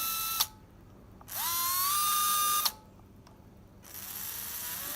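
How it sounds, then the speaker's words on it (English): An old WAM motor with a worn bearing spins up in short bursts, a gliding whine rising then holding steady with a gritty mechanical buzz, separated by pauses, faint and close with no talking. "an old WAM motor, if you can hear it."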